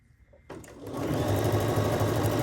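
A sewing machine fitted with a quarter-inch presser foot starts up after a quiet moment and runs steadily, stitching a quilt block seam close by with a continuous mechanical whir.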